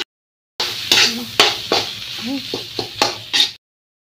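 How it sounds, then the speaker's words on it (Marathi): Potatoes tossed with curry leaves and salt in a hot pan, a spoon scraping and stirring in repeated strokes over a steady sizzle, close and clear, with no talking. "मग कढीपत्ता टाकू, बटाटे ॲड, तर मीठ, मग त्याला मिक्स करू"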